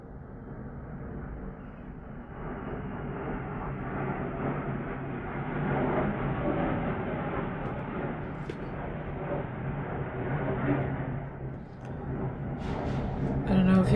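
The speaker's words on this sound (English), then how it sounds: "Could hear that noise, but those are planes coming over." Airplanes pass overhead as a broad, rising and falling rumble that swells and fades over several seconds, moderately loud and continuous, heard indoors from some distance away.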